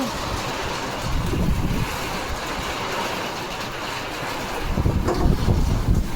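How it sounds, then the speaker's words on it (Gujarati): Strong wind gusts roar and buffet the microphone outdoors during heavy rain, a continuous broad rushing noise that swells louder toward the end, with no voices. "ફૂલ પવન છે અને ફૂલ વરસાદ આવે છે"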